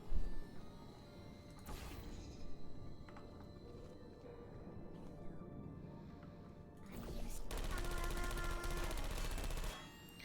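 Automated turrets in the Portal 2 video game let off rapid bursts of gunfire, one burst at the start and another sustained, louder rattle near the end, with quieter game ambience between.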